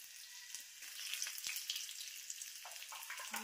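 Garlic, curry leaves and red chili frying in hot oil, a soft, continuous sizzle broken by scattered small crackles and pops, with no voices.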